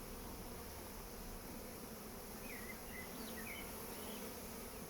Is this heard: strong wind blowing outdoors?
no